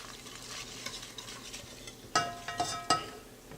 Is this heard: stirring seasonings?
yes